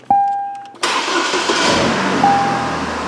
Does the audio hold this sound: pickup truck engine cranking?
yes